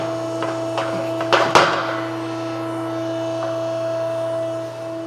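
A steel mandrel slides into a frame rail tube on a tube-bending machine, a few metallic clanks and a sharp scrape over a constant electric machine hum.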